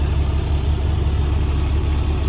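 A semi tractor's diesel engine idling as the clutch is slowly released during a brake check, a steady loud low rumble holding even throughout with no talk.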